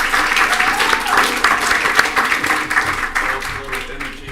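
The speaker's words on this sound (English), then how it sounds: "let's give Paul a round of applause." Audience applause at a quarterly service awards event, a steady, dense wash of clapping from a sizable crowd that holds at a fairly even level for several seconds.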